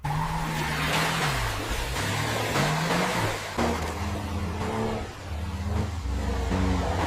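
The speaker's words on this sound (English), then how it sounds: "The same Defender SUV driving on the same road, but from different camera angles." A Defender SUV driving along a road in an AI-generated scene, its engine and tires rushing and squealing steadily beneath loud music throughout.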